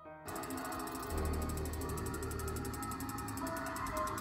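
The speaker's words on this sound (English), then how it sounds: "the clicking sound you hear coming from Mr. Dark is actually just a creaking of the scissor mech" Scissor mechanism of an animatronic Halloween haunt prop creaks with a steady clicking, ratchet-like rattle that runs continuously and fairly loud, with a deeper mechanical groan joining after the first second.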